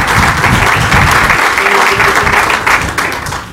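Applause rises from the audience at a Governor Christie event, a loud, full wash of clapping that holds for a few seconds and then begins to ease.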